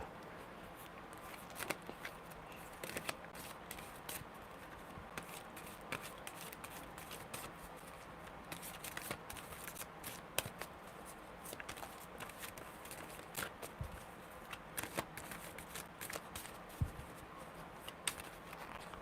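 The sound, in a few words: shuffling tarot cards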